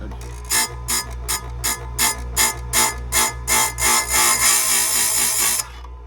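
A chainsaw chain tooth being sharpened on a grinder, heard as a run of about a dozen short, bright grinding bursts that come closer together and grow louder, ending in one long continuous grind; no talking.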